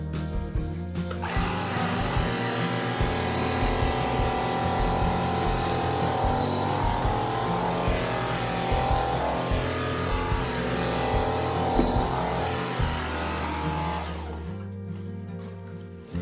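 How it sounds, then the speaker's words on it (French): A Cecotec Rockstar 300 X-Treme Ergoflex cordless vacuum with carpet brush runs loudly over crumbs, flour and semolina on a rug, with whirring motor and brush noise, shifting slightly as it moves, then winds down near the end. "Je vais maintenant tester la brosse spéciale tapis que j'ai accrochée directement à l'aspirateur."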